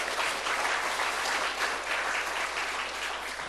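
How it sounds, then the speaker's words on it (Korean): A church congregation claps for its volunteers, steady even applause from a large room heard at moderate distance and continuing without a break. "그분들을 위해서 또 우리 박수 쳐주시죠."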